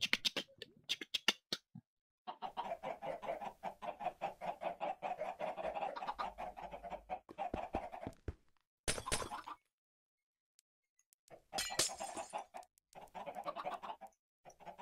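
Chickens cluck and squawk in a pen, a busy run of calls with sharp clattering bursts, then a pause before more clucking near the end.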